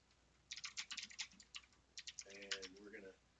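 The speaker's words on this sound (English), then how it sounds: "I know you guys are hearing my typing noises again" Rapid clattering keystrokes on a computer keyboard come in quick bursts with short pauses, close and fairly loud, and a brief voice-like tone is heard near the end.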